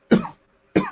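Two short, harsh coughs, close and loud, separated by a brief silence.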